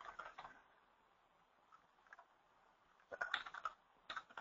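Computer keyboard typing in a quiet room, soft, close clicks in short irregular bursts with a pause in the middle and a quicker flurry of keystrokes near the end.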